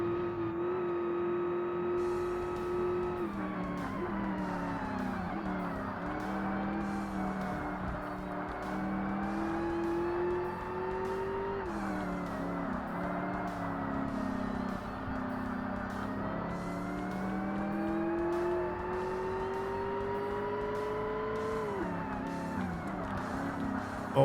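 An S-Class race car engine in Forza Motorsport roars continuously at high revs, its pitch climbing and dropping through gear changes and cornering, with brief tire squeal and no voices.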